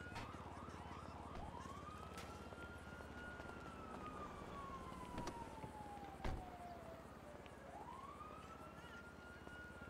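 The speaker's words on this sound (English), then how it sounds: "So you hear the sirens, right?" Police siren in the video game GTA 5, a long wailing sweep rising and falling steadily across the whole stretch over a constant background hum, with no speech.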